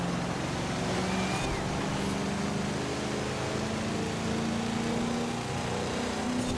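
In a racing video game, a big, heavy diesel engine in a stock Horizon Customs car drones steadily as it slowly gains speed, a continuous loud rumble with no clear gear changes and no talking.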